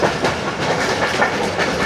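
The Pak Business Express train runs at speed, a loud, close roar of wheels and rushing air with a steady clickety-clack rhythm that keeps going throughout.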